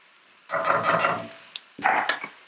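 About three tablespoons of minced garlic drop into hot oil and sizzle while being stirred. Two close, bright bursts of frying hiss are separated by a brief lull, with light utensil taps between them.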